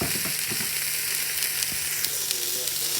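Onion, pepper and celery sizzle in a Ninja Foodi, a steady close frying hiss punctuated by soft stirring knocks and faint crackles.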